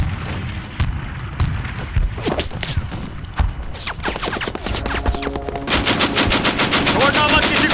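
Rapid machine gun bursts rattle through a sci-fi action movie battle, loud and sustained, with booming impacts and scattered single shots growing denser toward the end, soldiers' shouts faintly under the gunfire.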